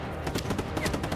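Rapid gunfire from Just Cause 3 forms a continuous loud rattle of shots layered with game sound effects and a faint voice underneath.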